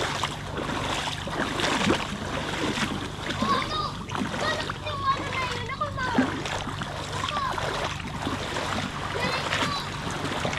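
Water splashing and churning as a boat cuts through waves, steady and fairly loud, with voices talking over it.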